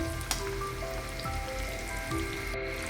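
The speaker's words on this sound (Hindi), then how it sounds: "तो बस इसको थोड़ा सा 1 मिनट और सेक लेती हूँ, बहुत ज़्यादा हमें पकाने की ज़रूरत नहीं है गोभी को" Cauliflower frying in a pan while being cooked for a wedding-style vegetable curry, a steady close sizzle with fine crackling spits running throughout, without talk.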